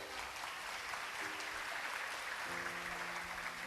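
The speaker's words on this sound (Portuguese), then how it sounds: "Aplauda Ele por isso" A steady patter of clapping from a church congregation during a sermon, with soft sustained musical tones underneath.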